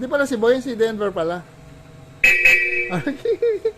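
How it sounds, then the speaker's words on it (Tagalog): A loud Bosch horn on a Suzuki Jimny blares for under a second between stretches of talk, a steady piercing tone, with someone speaking before and after. "Iba yung tunog niya, iba yung tunog ng busina natin."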